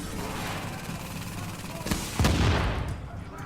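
Gunfire from a deployed turret in Tom Clancy's The Division, a dense mid-level crackle of shots with a couple of louder sharp bursts near the middle, fading into a noisy tail.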